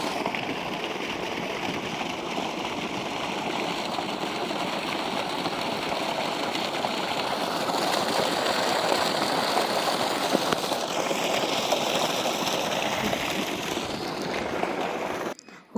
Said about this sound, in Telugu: మా బ్రో అక్కడ మోటార్ తిప్పుతా అన్నారనమాట నీళ్లు కట్టడానికి